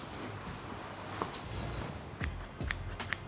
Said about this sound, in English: let's open this. Scissors.